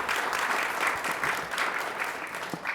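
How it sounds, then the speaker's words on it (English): Audience applause at a chamber of commerce board installation breakfast, steady dense clapping from a room full of people lasting the whole stretch at moderate loudness. "Round of applause."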